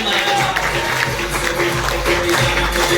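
An audience claps for Mohit Pal at a DTM Company motivational talk: a dense, steady wash of applause fills the whole stretch, with faint tones running beneath it.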